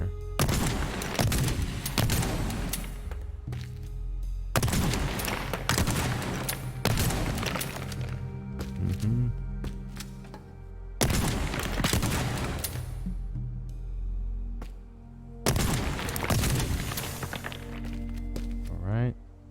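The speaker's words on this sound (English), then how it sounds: "Try it with the shotgun here." Shotgun blasts in the video game Teardown, heavy booming shots recurring about every five seconds, each followed by crumbling debris and a lingering tail, with loud game ambience throughout.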